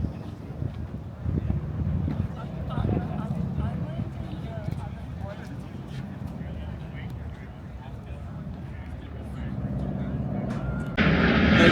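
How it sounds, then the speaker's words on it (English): An airliner takes off at the EAA AirVenture Oshkosh airshow, its engines a deep, broad rumble that swells toward the end, heard under someone talking. "you get an airliner taking off that was part of the show"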